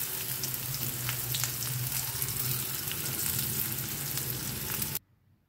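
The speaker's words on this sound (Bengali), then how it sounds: "হালকা হাতে এবারে চানাগুলো ভাজবো।" Chickpeas sizzle in a little oil over medium heat, with a steady, close frying hiss and light stirring that cuts off abruptly just before the end.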